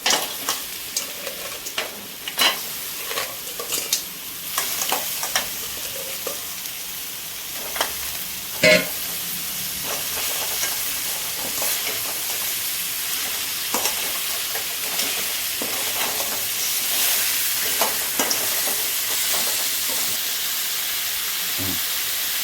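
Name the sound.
crab frying with onion and tomato in a pan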